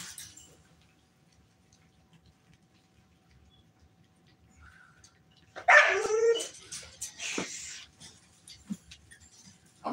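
Dogs at a kennel break out in a short burst of loud, close barking after a mostly quiet stretch, followed by a few scattered, fainter yaps.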